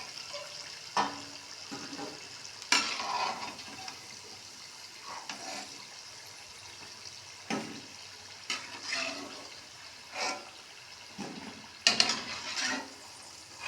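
Potato pakoras fry in a pan of hot oil, a faint continuous sizzle with irregular louder bursts and splashes as pieces are turned, heard from close by with no voices over it.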